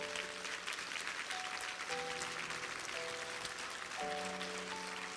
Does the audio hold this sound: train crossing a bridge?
no